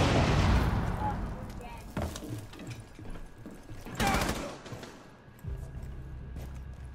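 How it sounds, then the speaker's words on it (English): A frag grenade goes off in Rainbow Six Siege: heavy booming blasts and crackling debris at close range, with a second sharp burst a couple of seconds later and a player's voice talking between them. "Frag grenade out."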